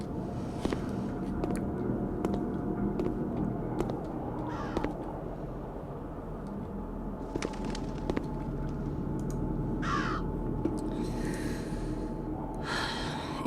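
Crow caws in the video game Root of Evil: The Tailor, several harsh calls scattered over a low ambient game background, with a few breathy snorts and gasps.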